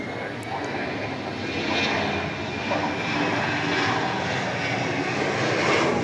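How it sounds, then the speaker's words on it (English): United jet engines roar loud and steady as the plane climbs away during a go-around at DFW airport at night, a broad, sustained rush that swells slightly toward the end. "this United plane is going around"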